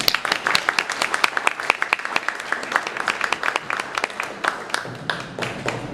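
An audience at a supply chain leadership event breaks into applause for a guest speaker, many hands clapping steadily at close range before tapering off.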